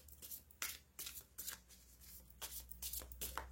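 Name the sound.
playing cards being handled and drawn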